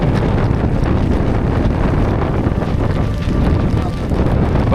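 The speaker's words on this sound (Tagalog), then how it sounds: "Malalakas na hangin." Steady roaring wind during a storm while fishing at Tanza buffets the microphone, a loud continuous rumble with gusty texture throughout.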